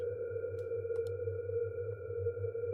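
An eerie sustained tone drones low and steady in the horror game I'm On Observation Duty 6. A faint higher whine sits above it and a few soft blips break in. It marks an anomaly appearing in the game.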